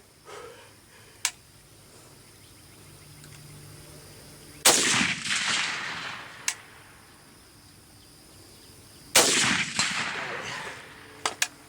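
A Zastava M77 PAP AK-variant rifle fires two loud outdoor shots several seconds apart, each followed by a rolling echo tail, with a few sharp quieter clicks and cracks in between.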